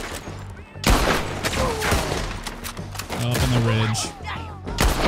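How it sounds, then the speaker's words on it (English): Gunfire in Red Dead Redemption 2 during a shootout with the Skinner Brothers: rapid, repeated sharp shots crack over continuous battle noise, with voices calling out between bursts. "I'm shooting him."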